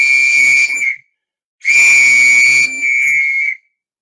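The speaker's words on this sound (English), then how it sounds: "It's an old-fashioned police whistle." An old-fashioned police whistle is blown in two loud, shrill blasts, a short one followed by a longer one with a slight drop partway, separated by a brief silence.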